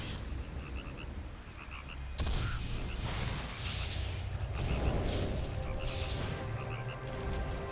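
Frogs croak in EverQuest II's Castleview Hamlet area, repeated rhythmic croaks over ambient game sound with dull thumping impacts, moderately loud with no speech.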